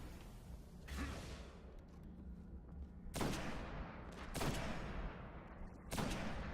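Weapon shots ring out in the video game Destiny during a Crota's End session, with four sharp, separated blasts spaced a second or more apart over soft background game ambience.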